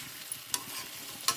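Bitter gourd fry being stirred in a pan, with soft sizzling and a few sharp scraping clicks of the spoon against the pan, quiet and close.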